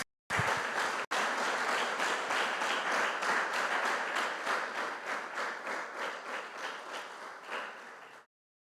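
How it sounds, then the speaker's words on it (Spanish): Loud applause from a church congregation fills the room steadily for about eight seconds, with dense clapping that slowly thins and fades before stopping abruptly. "Den un fuerte aplauso a Dios."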